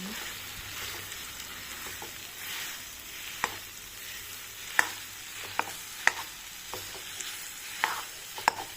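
Khoa roasting in hot ghee, a soft continuous sizzle broken by sharp spoon scrapes and taps against the pan as it is stirred, close and moderately quiet.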